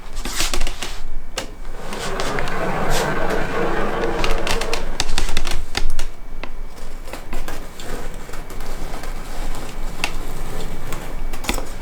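Super sharp scissors snip through quilt binding on a longarm frame, giving a run of crisp, close clicks and cuts spread unevenly over steady background noise, with no talk.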